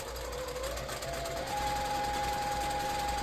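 A sewing machine stitches a placemat in a steady, close mechanical whir that rises slightly in pitch midway and runs continuously without speech.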